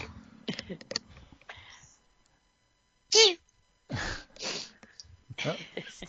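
A tiny, high-pitched stifled sneeze stands out briefly between stretches of talking, short and squeaky.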